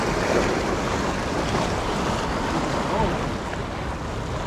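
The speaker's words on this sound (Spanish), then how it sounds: "hace un viento que no vea" Strong wind gusts by the sea, a loud steady roar of buffeting air over breaking surf, close and continuous.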